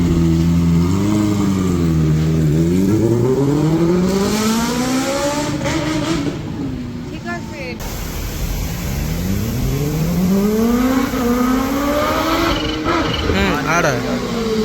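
A Kawasaki Ninja H2 motorcycle on the road near Jammu, its engine revving up and down through gears in rising and falling sweeps, loud and close with wind noise, while a rider speaks over it.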